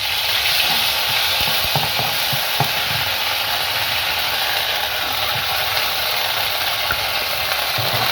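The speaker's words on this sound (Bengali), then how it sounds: "এবার আমি এতে তেল দিয়ে বেটে রাখা মশলাগুলো তেলে" Ground spice paste sizzling in hot oil in a village kitchen pan, a steady loud hiss of frying with occasional light scraping taps of stirring.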